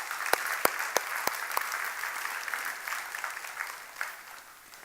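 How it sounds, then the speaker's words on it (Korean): A church congregation claps in blessing, opening with a few sharp, separate claps before swelling into a broad wash of applause that slowly fades toward the end. "우리 하나님 앞에서 축복의 박수를 한번 다시 올려드리겠습니다"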